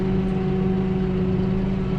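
A 2022 Kubota M6-131 tractor drives forward while turning, its steady mid-pitched diesel engine droning loud and close without a break, with no talking over it.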